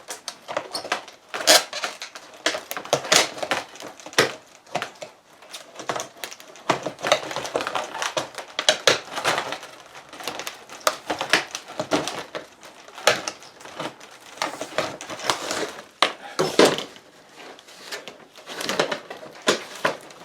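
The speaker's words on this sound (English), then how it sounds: "it can be done with a pair of snips" Tin snips cutting through metal sheet, a steady run of sharp, crunchy clipping snaps close by, bursts repeating irregularly with short pauses between cuts.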